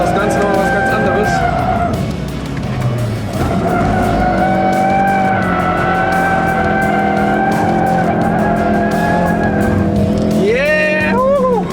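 A 2016 Ford Focus RS with 350 PS drifts hard, its engine droning steadily beneath long, loud tire squeals that last the whole stretch, with a rising engine surge near the end.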